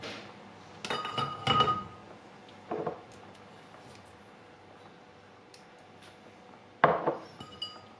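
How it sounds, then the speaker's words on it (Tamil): A pot of Chettinad chicken kulambu, just salted, is stirred and covered with its lid: a few close metallic clinks and scrapes in short bursts, then a sharper clatter as the lid settles, with quiet pauses between. "இப்ப கிளறி போட்டு வைக்க போறேன் மூடி"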